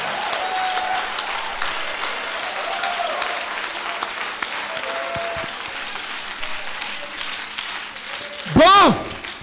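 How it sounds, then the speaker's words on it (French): Church congregation applauding during a sermon, a steady dense wash of clapping and cheering voices throughout, with a louder rising shout or whistle near the end. "Donnons-lui des acclamations."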